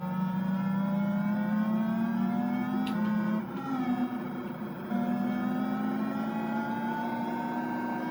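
A motorcycle engine in Sega Hang-On on the Master System whines and climbs in pitch as the throttle opens, dips briefly when backed off, then rises again, a steady electronic drone with no talking.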